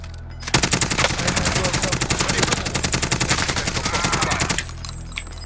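Rapid sustained automatic gunfire from Call of Duty: Modern Warfare, a dense continuous burst of loud shots lasting several seconds before cutting off, with faint voice chat underneath.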